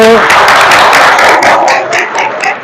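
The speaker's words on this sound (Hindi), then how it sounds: "एक बार जोरदार तालियां बजा दो।" Loud audience applause at a youth group gathering, dense clapping filling the space and tapering slightly toward the end, with some voices mixed in.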